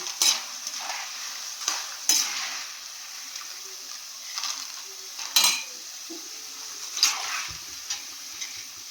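Jackfruit chips fry in hot oil with a steady, close sizzle, broken by several sharp scraping and clinking strokes of a metal spoon stirring in the pan.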